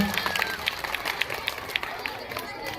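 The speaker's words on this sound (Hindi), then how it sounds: "एक तालियां आप लोग बजाइएगा।" An audience at a school farewell ceremony claps in a dense, continuous round of applause, loud and close, with crowd noise mixed in.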